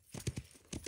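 A horse's hooves in the Wild West Online video game, a few quick clip-clop steps close by, faint and brief, with no talk.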